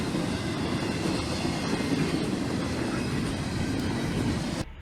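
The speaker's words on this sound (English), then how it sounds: "This next catch is a K train with CSX 173" A CSX freight train passing, a steady heavy rumble and rolling wagon noise close by that holds for several seconds before dropping off sharply at the end.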